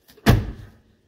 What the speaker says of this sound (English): Watch how easy this door shuts now.